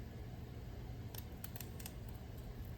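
Scissors cut through pearl adhesive strips for a wedding junk journal, giving a few quiet, crisp snips in quick succession against a soft, steady room hiss.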